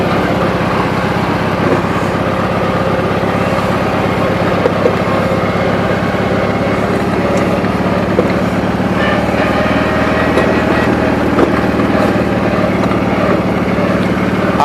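A 20-G tractor engine running steadily in gear, a loud continuous low chugging drone held close up with no break throughout.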